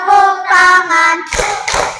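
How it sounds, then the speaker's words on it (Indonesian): Two sharp hand claps close by in an ice-breaking game during a classroom lesson, coming right after a stretch of sung voice leading the game. "Bertepuk tangan"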